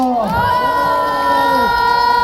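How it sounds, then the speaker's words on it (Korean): A crowd cheers and shouts together at a Korean campaign launch rally for a National Assembly candidate in Gangbuk-eul, Seoul. Sustained, loud massed voices rise and hold steadily throughout. "큰 박수 부탁드립니다"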